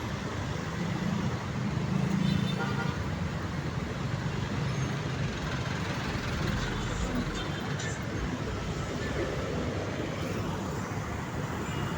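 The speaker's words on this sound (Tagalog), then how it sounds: "Traffic po mga idol dito ngayon sa may Balintawak, EDSA, traffic." Dense road traffic on EDSA in Balintawak, a steady loud roar of cars, buses and trucks with engine rumble throughout and a swell of passing vehicles, a voice talking faintly over it.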